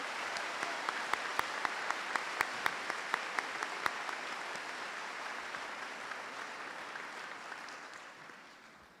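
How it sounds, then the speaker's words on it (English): An audience claps steadily through a high school graduation ceremony at Oak Hill Union Local Schools, welcoming back a returning class, with a few sharp louder claps early on before the applause tapers off. "Would you all join me in applauding and welcoming back the class of 74?"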